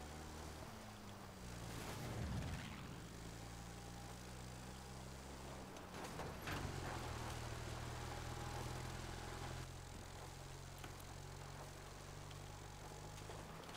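Airplane engine in the Battlefield V video game, a steady droning hum with shifting low tones that swells and dips as the plane struggles to pick up speed, continuous and fairly loud with no talking.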